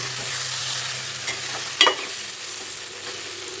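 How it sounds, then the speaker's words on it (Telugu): Curry stirred in hot oil in a pan, a soft steady sizzle with occasional scrapes of the spoon, one sharper clatter midway, fairly quiet and without talk. "మంచిగా నూనెలు అయితే ఉడికిందండి."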